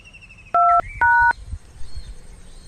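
A telephone gives two short, clear electronic tone bursts in quick succession, loud and close, then falls quiet over faint room noise.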